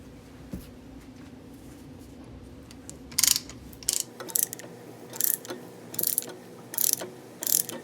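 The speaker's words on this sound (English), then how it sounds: "is some piston compression tool" Brake piston compression tool ratcheting against the caliper piston on a 2007-2012 Acura RDX during a brake pad job, with a faint scrape and then a run of sharp, close ratchet clicks in bursts.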